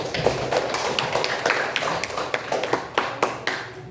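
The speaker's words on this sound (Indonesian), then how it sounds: "Oke, tepuk tangan buat kalian." A classroom of students clapping after a lesson on honesty and norms, a loose run of sharp, uneven claps close by for a few seconds, thinning toward the end, with no talk over it.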